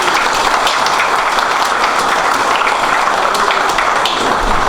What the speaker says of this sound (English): let's give the volunteers a round of applause